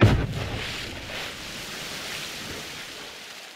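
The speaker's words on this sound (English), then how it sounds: "a wax dynamite exploding in water" Dynamite exploding in water in the video game Hunt: Showdown, a sharp low blast at the start followed by a long, fading wash of splashing, surf-like noise.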